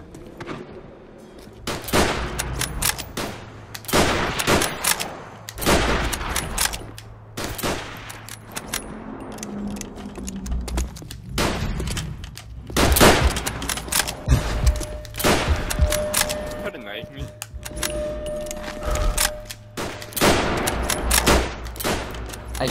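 Rapid bursts of gunfire in the World at War shooter game, a 1v1 match, with loud overlapping shots and volleys repeating across the whole stretch, no talk over them.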